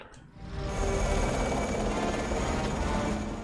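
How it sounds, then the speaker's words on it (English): A loud helicopter roar from the 1988 film Rambo III fades in and holds steady, a dense rumbling thrum with rotor chop filling the scene. "He's gonna steal the helicopter?"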